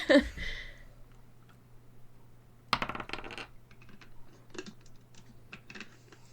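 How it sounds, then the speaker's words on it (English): Dice tumbling during a tabletop role-playing game, a sharp clatter at the start, then a rattling roll across a hard surface with scattered small clicks afterward. "Whose dice did I hear roll?"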